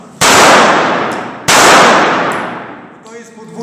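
Two loud, sharp gunshots fired as a double shot in a shooting drill, about a second and a quarter apart, each with a long rolling echo trailing off, followed by faint background noise.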